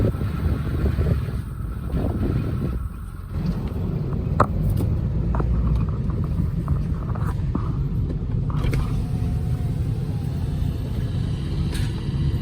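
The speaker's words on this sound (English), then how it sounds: "The 7720 John Deere." A John Deere 7720 tractor pulling a hay bale collector on an Arkansas Bermuda hay farm gives off a steady, loud engine rumble with wind buffeting and occasional knocks, heard up close throughout.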